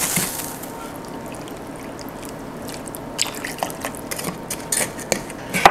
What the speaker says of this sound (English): Add just enough water